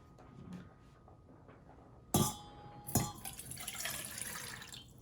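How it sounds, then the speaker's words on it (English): Warm water poured into a bowl for homemade play dough: quiet room tone first, then a sudden splash and a second gush, followed by a steady trickling pour with faint clinks. "pour 3/4 of warm water into this"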